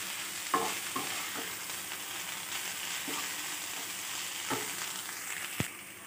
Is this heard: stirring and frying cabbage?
yes